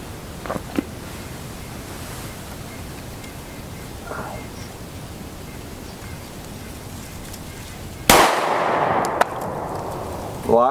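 A 5.7x28mm pistol firing a 34gr PFP V57 Prime round into armor panels in front of a gel block: one sharp, loud shot rings out after quiet, followed by a fading outdoor echo.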